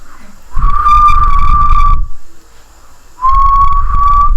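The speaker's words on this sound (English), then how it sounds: "Is that a whistle? I kind of feel like I was just like blowing." A person attempts to whistle, producing two breathy, steady-pitched tones close to the listener, separated by a short pause.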